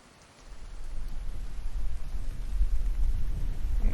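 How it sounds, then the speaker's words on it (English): Rain begins in the survival game The Infected, swelling after a moment of quiet into a steady, dense hiss with a low rumble underneath. "And here comes the rain."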